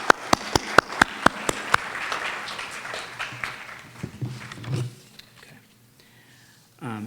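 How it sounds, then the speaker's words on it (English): At a gurukulam's 37th anniversary celebration, an audience bursts into applause that builds and holds for several seconds, then tapers off into a brief lull before a voice speaks near the end. "So another round of applause for them,"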